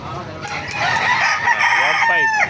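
A rooster crows among the crowd noise of a live chicken market in Baliuag, Bulacan, its rising, wavering call ending the stretch close and loud over steady background chatter and clucking.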